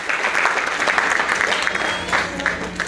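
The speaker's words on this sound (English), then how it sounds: "Let's give the Lord a round of applause" A church congregation bursts into sustained applause, a dense, even wash of many hands clapping together for the full stretch, with a few voices mixed into the crowd.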